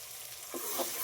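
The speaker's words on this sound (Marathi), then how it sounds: "आता आपल्याला व्यवस्थित मसाला जो आहे ना तो व्यवस्थित परतून घ्यायचा आहे" Masala being sautéed in oil for Khandeshi dubuk vada curry: a faint, hissing sizzle with two soft scraping stirs near the end.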